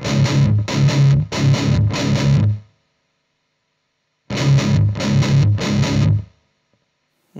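Distorted electric guitar through an AMT Incinerator NG-1 noise gate plays two bursts of three chugging chords, each cut off sharply into near silence between them.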